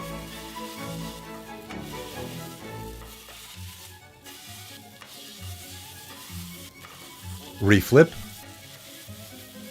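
Fatty pork roast searing in a hot pan, cooked for a traditional Cuban sandwich: a steady sizzle and frying crackle under music, with a brief louder burst of handling noise near the end and a few spoken words.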